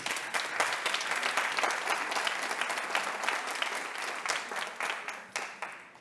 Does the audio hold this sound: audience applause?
yes